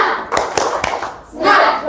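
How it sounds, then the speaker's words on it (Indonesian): A classroom's rhythmic spirit clap: a few sharp, spaced claps in a patterned beat from children together, then a denser burst of clapping and voices at the end. "Tepuk semangat."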